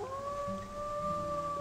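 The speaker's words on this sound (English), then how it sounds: "Let's see what happens if we howl." Several wolves howl together in Wolf Quest 3 on a rainy day, two long sustained tones held steady for the full stretch, clear and fairly close over a low murmur of rain.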